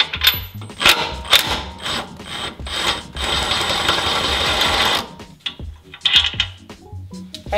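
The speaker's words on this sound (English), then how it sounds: "Now I'm going to remove the lower shock mount using a 19 millimeter socket." Power tool with a 19 mm socket removing the lower shock mount bolt on a Tacoma, a steady two-second buzzing run in the middle, set between metallic clinks and rattles.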